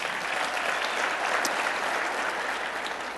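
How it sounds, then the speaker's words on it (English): An audience at a workplace productivity keynote claps in a steady, dense wash of applause for a few seconds, moderately loud and continuous with no talk over it. "clap if the answer is yes"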